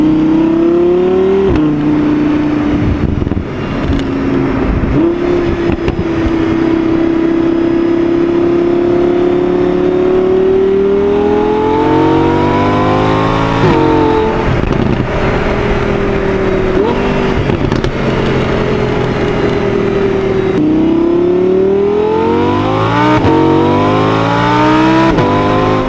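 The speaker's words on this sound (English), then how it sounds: "Exhaust note in this car is just so sick, and obviously I have it mic'd up back there." Audi R8 V10 exhaust, miked at the rear, revs hard toward its 9,000 rpm redline on a drive, with a loud, sustained wail that climbs repeatedly through the gears, dropping briefly at each shift before rising again.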